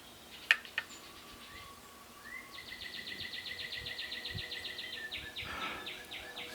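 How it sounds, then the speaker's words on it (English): Northern cardinal singing outdoors near a chicken coop, a steady run of bright, evenly spaced whistled chirps at moderate distance, after a couple of sharp clicks. "That is a cardinal."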